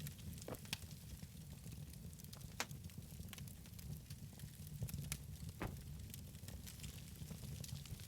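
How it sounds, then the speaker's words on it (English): Food cooking over a campfire in the survival video game SCUM gives a faint, steady sizzle with scattered small pops and crackles throughout, with no talking. "Hear that little sizzle?"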